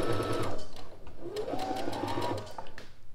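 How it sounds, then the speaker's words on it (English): A sewing machine runs a straight stitch seam on a tie top, a close, rapid mechanical whirring chatter that pauses briefly in the middle and then resumes. "I'm just going to sew that down into this notch right here."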